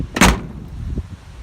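The newly fitted door on a Chevy K20 truck shuts with a single sharp, loud slam near the start, followed by faint rattles and handling noise.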